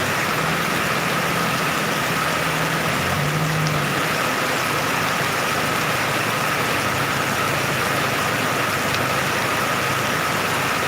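Heavy rain falls steadily and loudly throughout, a dense unbroken roar with a low hum underneath and no speech.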